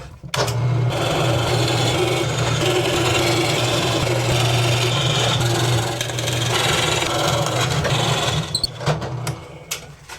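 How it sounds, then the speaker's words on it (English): Drill press boring all the way through a mahogany guitar body blank with a backing block beneath, a steady loud grinding hum with a low motor drone throughout, ending in a few sharp knocks. "And I'll take those to the drill press and just have a go."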